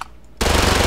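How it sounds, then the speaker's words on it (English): A Glock 18 fires fully automatic in a battlegrounds-style video game, a dense rapid burst of loud shots erupting after a brief quiet moment and continuing to the end, with no talk. "Glock 18, is this automatic?"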